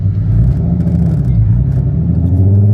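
A MK6 car swapped with a 3.6 VR6 engine and 4Motion drive accelerates hard in first gear, with a loud, close, steady engine roar and rumble throughout.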